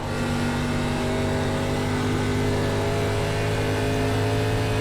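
An ARCA race car engine in an iRacing sim race at Rockingham Speedway drones loud and steady at high revs, a continuous close in-car roar with no talk.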